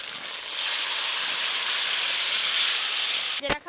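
Steady loud hissing sizzle of food frying in a pan for a homemade Bengali fish curry with green chilli paste, continuous and close, ending with a sharp clatter.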